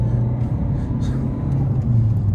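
A warm Peugeot city car with a 92-horsepower engine revs hard to clear carbon, producing a loud, steady low-pitched engine roar that holds throughout, close to the listener and without talk.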